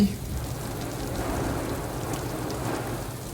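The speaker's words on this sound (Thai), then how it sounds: "ฝนอยู่นี่เม็ดใหญ่ใหญ่" Heavy rain pours steadily onto a roof, a constant close hiss and patter that stays even throughout.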